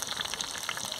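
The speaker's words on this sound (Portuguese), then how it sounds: "agora botamos tempo fritando" Chicken frying on a small disc pan, set over heat after pork crackling was fried, gives a steady, close, bright sizzle with fine crackle throughout.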